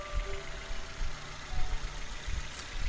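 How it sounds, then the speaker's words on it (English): Nissan Almera N16 with a QG15DE engine idling smoothly, a steady low hum with a faint rhythmic pulse, heard close and alone. "a nice smooth idle."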